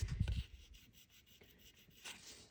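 Sandpaper rubbing on a small part of an Alpha Models Ferrari SF90 Spider model car kit: a short burst of close scratchy strokes, then fainter intermittent rasping.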